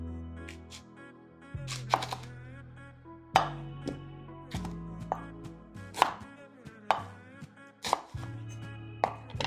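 A knife chops through an onion on a cutting board with about eight distinct thuds at a steady, unhurried pace, each cut followed by a short pause, with no talking and only faint music behind.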